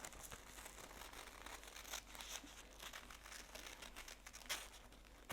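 Scissors cutting paper strips into flame shapes: quiet, close snips and crinkling paper rustles come in irregular bursts, with a few sharper cuts standing out against near silence.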